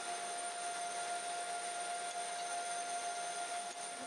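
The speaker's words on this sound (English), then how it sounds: "I could cut the bow ties out by running it through the bandsaw again" A bandsaw cutting wooden bow ties out of a glued-up blank, a steady loud whine with a constant mechanical drone, running alone without talk.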